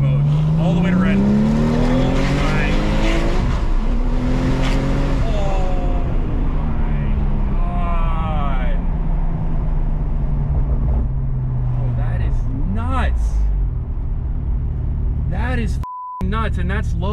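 A manual 800hp Porsche 997 Turbo in low boost mode accelerates hard to redline through the gears. The engine roars loudly from inside the cabin with rising revs and shift drops, and a voice is briefly heard.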